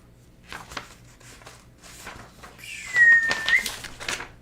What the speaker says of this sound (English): I didn't mean to whistle like that.